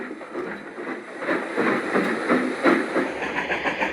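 A train running on rails in an animated railway series, a continuous rolling rumble with light rhythmic clatter and hiss, steady and fairly close, with no voices.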